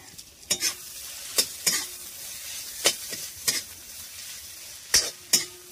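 Pork intestine cooked with blood sizzles in a pan while being stirred, steady frying hiss broken by repeated sharp scrapes and clinks of a utensil against the pan at an irregular pace, close and without talk.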